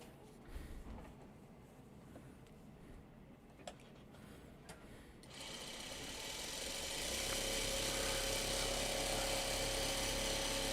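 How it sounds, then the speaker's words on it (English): A sewing machine stitches two quilt blocks together, its motor rising into a steady, close whirring hum that builds and holds after a quieter start. "I just totally sewed those two blocks together"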